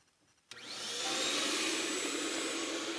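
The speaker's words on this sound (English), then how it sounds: "I'm going to turn on my vacuum," A vacuum motor that powers the keys of a player piano starts after a short quiet pause and quickly rises to a steady, loud, broadband whirring drone that holds until the end.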